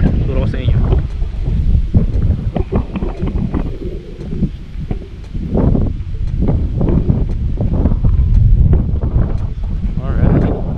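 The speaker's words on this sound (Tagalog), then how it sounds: "Actually ano rito, mahangin guys. Ang lamig ng hangin, no?" Strong, cold wind buffets the microphone in steady gusts at a property lot in Tagaytay, with a person talking in Tagalog over the blustery rush throughout.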